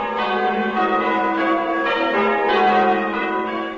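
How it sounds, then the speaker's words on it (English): Church bells of St Andrew's, Chew Stoke, a six-bell tower, ring out loudly with rich overlapping tones that sustain and blend without pause. "The bells of St. Andrew's Church, Chew Stoke."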